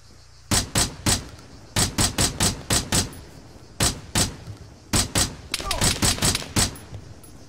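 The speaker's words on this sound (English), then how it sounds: "shots over there" Gunshots in the military shooter game Arma ring out in separate bursts of two to five sharp cracks, closely spaced and loud, with brief pauses between volleys and a denser cluster of rapid shots near the end.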